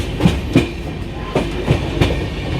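Inside a carriage of the Poorva Express passenger train from Howrah to New Delhi, a low rumble runs under rhythmic wheel clacks, loud and close, with no talking.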